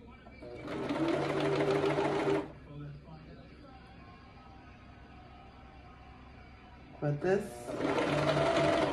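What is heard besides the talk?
Brother 2340CV coverstitch machine hemming spandex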